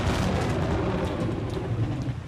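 Rumbling thunder rolls continuously beneath steady heavy rain in a stormy island scene from the visual novel Umineko, a dense low roar sustained at even loudness with no voices.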